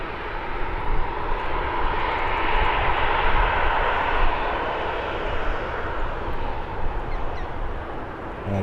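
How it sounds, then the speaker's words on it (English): A Jet2 airliner taxiing toward the runway at Birmingham airport, its engines giving a steady, fairly loud whining roar that swells and slowly fades, with faint bird calls in the background. "Jet2.com working its way to the runway now"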